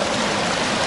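Flowing stream water splashes and gurgles in a steady, close burble along the Lycian Way in Turkey, heard alone.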